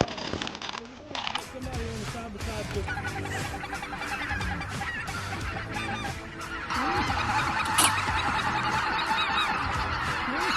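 Many speckled geese honk together in a loud, dense chorus in northeast Arkansas, with a rush of wingbeats and splashing as the flock lifts off; voices murmur underneath.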